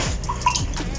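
Short splash of water pouring into a cooking pot of afang soup with seasoning cube and crayfish, a brief bubbling gush with faint drips, heard close and alone.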